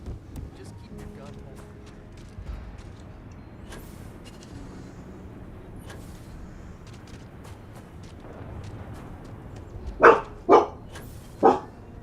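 A pet dog gives three sharp, loud barks in quick succession indoors near the end, after a long stretch of quiet room noise and game sounds.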